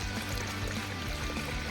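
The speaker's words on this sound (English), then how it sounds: "cooling system up with some water and see if it leaks everywhere." Water pours steadily into the cooling system of a drift car, a continuous close gushing stream with no talk over it.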